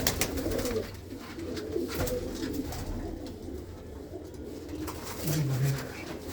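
Pigeons coo in a low, repeated murmur among a loft of flying breed birds with broad wings, with a louder close coo near the end over light background noise.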